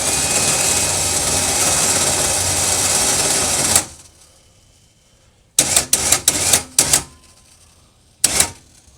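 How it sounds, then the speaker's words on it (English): The winch on a 2010 Polaris Ranger whirs loudly and steadily as it spools its rope back in, then stops; after a pause, several short bursts of winching follow and one brief final burst closes it out. "So I'm gonna go ahead and run this rope back in, and then we'll get our hook put on."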